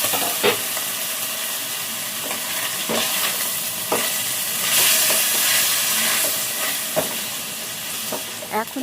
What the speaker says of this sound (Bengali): তো এটাকেও আমি ঢাকনা চাপা দিয়ে দিয়ে আর কি ফ্রাই করে নেব